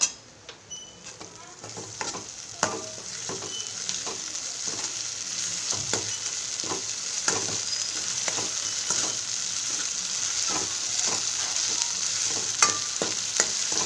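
Ginger garlic paste sautéing in a pan, a steady bright sizzle with scattered stirring scrapes and clicks throughout, close and continuous without talk.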